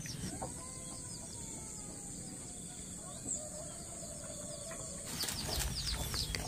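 Chickens at a village house in the countryside cluck and flutter their wings amid a steady background hiss, with a busier, louder burst of activity near the end.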